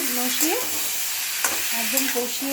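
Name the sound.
sautéing butter chicken masala with dried chilli in a pan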